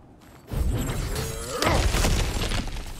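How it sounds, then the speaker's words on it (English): Kratos smashes through cracked ground in the game God of War. A loud crash and rumble of breaking earth starts abruptly and stays heavy, with a second surge of crumbling debris partway through. "back to smashing through things for fun and profit"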